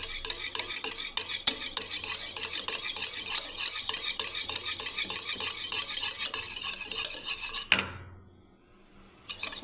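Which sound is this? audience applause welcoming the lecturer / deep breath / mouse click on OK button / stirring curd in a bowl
stirring curd in a bowl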